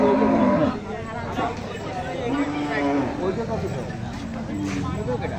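Cattle low and moo repeatedly at a busy cattle market, close and loud, over a background of crowd chatter and people talking.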